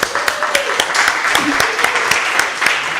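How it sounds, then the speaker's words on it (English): A congregation at a Unitarian Universalist service applauds its speakers, a full round of clapping with sharp individual claps standing out, a faint voice murmuring briefly beneath it. "Let's just give them another round of applause."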